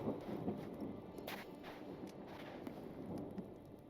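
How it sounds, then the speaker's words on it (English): Steady rain in a video game, a soft continuous patter with faint low rumbles of thunder underneath, quiet and without any talking. "Okay, stop raining real quick."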